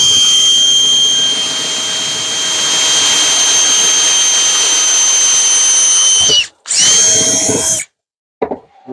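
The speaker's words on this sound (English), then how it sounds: "Then our final step will be our 3/4 inch bit." A power drill bores through an RV holding tank with a 3/4 inch bit, a loud steady high-pitched whine that holds for about six seconds, cuts out briefly, returns, then stops abruptly near the end.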